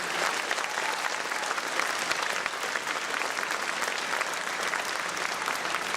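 An audience at an awards event breaks into steady, dense applause, a continuous wash of many hands clapping at even loudness throughout, with no voices standing out.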